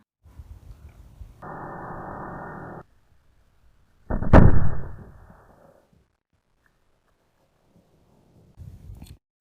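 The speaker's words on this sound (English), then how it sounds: "As expected, the explosion will be weak." After a stretch of hissing, a gas cylinder blows up on a clay model van, a single muffled blast booming out, fairly weak and short, followed by quiet and a faint rustle.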